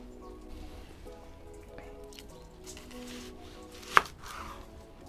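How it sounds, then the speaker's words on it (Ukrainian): A knife cuts through an onion on a board with one sharp, close chop, set against quiet kitchen background noise. "ріпчасту цибульку розріжемо на чотири частини"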